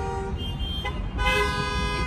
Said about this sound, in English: there's a lot of honking.